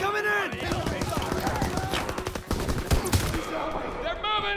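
Rifle and machine-gun fire crackles through a Call of Duty WW2 campaign battle on PS4, rapid overlapping bursts and sharp single shots close by, with soldiers shouting over the fighting.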